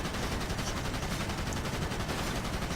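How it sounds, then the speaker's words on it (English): Sustained incoming fire rattles against a warplane in World of Warplanes: a continuous, evenly pulsing machine-gun clatter, loud and unbroken, with no talk over it. "you're taking just very consistent fire"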